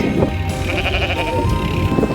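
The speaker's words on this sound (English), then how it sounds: "Wow, look at all these sheep." Sheep and small lambs bleating on open pasture in the remote Scottish Highlands, several overlapping calls at close range, steady and fairly loud, with no talk.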